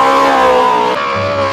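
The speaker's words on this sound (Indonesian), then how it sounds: "Mobil balap." Toy race car sound effect, a short loud revving engine whine whose pitch slides slightly downward, with a deeper tone entering near the end.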